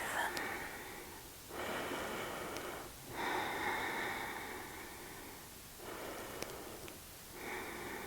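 Slow, audible yoga breathing during a gentle Hatha session: long airy inhales and exhales alternating with short quiet pauses, close and soft, with no talking.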